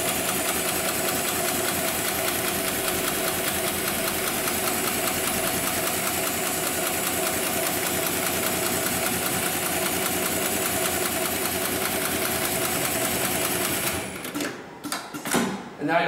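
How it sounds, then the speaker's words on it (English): An automatic computerized pattern sewing machine with extra-thick thread stitches reinforcing seams into heavy-duty safety-belt webbing, a loud, close, rapid mechanical chatter running steadily for most of the time, then stopping abruptly into a few scattered clunks. "I'll push the pedal on the left-hand side, and that'll initiate the sewing sequence."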